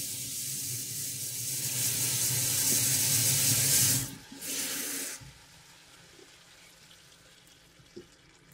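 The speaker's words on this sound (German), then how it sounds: "So, das war heißes Wasser." Hot water pours into a VonShef cast iron casserole pot in a steady rushing splash that builds for about four seconds, breaks off, surges briefly again, then settles into quiet with a faint clink near the end.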